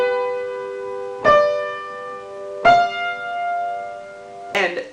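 A dominant seventh chord resolving to the tonic, played on a keyboard-like instrument: three separate chord strikes, each ringing out with sustained tones, clear and close with nothing else heard.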